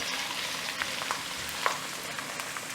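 Garlic sizzles steadily in a pan of hot oil for apple pickle, giving a continuous crackling hiss with occasional sharper pops and no voices.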